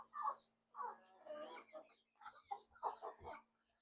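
Hens clucking and squawking in a run of repeated, fairly close calls with short pauses between bursts, plus a low steady hum underneath.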